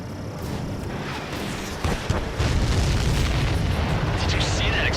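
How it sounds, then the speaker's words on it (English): A supply ship blows up in the Ace Combat 7 flight game, a heavy continuous boom and rumble with a sharper burst partway through, sustained and loud over steady jet engine roar. "Did you see that explosion?"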